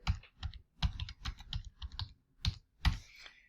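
A computer keyboard is typed on in quick bursts of clicking keystrokes, close and crisp, pausing briefly between short runs of keys while a food entry is filled in.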